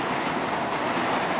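Long Island Rail Road train rolling past close by in Kew Gardens, a steady, dense roar of wheels and carriages with faint clatter, loud and continuous throughout with no talking.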